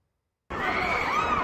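Screams and shouting from a crowd just after a suicide bombing near a courthouse in Islamabad, Pakistan, bursting in suddenly after silence and continuing loud and sustained.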